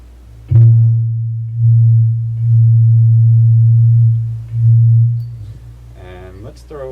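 Low hollow tone blown across the mouth of a glass bottle bearing a Viking label, sounding as several sustained hoots of steady pitch with short breaths between, close and loud, followed by a brief voice.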